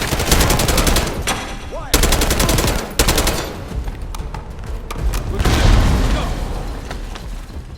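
Gunfire and grenade explosions ring out in the first-person shooter game Call of Duty: Black Ops 6, with loud rapid automatic bursts broken by heavy booms and pauses.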